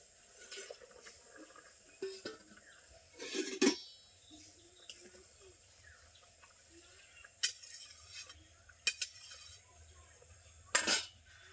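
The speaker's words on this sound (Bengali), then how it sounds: "ঢাকনাটা খুলে নিচ্ছি দিয়ে দিচ্ছি ভেজে রাখা মাছগুলো" A cooking pan lid is lifted and fried river fish are dropped into the pan. Scattered metallic clinks and clatters with brief clattery bursts and quiet gaps between them, all close and fairly soft, with no voices.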